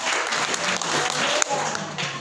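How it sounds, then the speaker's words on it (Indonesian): A church audience clapping during a sermon, a brief burst of applause with a voice faintly mixed in, moderately loud and fairly close. "Kasih tepuk tangan."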